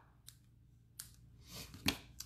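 Scissors trim ribbon for a handmade card, a few quiet, sharp snips spaced apart, close by in a quiet room.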